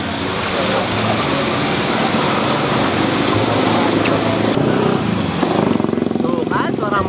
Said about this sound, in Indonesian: Tuh kan suara motor.